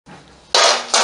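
Metal cake pans clatter as they are handled, with a quiet shuffle followed by two loud, bright metallic clanks near the mic, the second one shorter.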